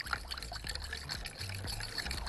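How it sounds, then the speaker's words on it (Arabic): Boiling water poured into tomato jam, a steady splashing stream close by with no talking. "حط له ميه مغليه بالشكل ده او ميه سخنه"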